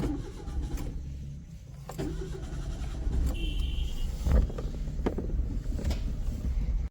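A car engine starts and the vehicle pulls away with three people inside, a steady close engine rumble rising and holding, with a few clicks and knocks from the cabin.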